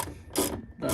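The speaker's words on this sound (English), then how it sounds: "right here are two more 8mm screws. We'll go ahead and remove." Hand ratchet clicking in quick bursts as 8mm screws come out from under the wheel well liner of a 2019-2021 Ram 1500 Hemi, close and fairly loud with two spurts of rapid ratcheting separated by a brief lull.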